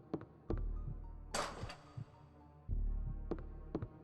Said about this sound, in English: is there a heartbeat sound in the music?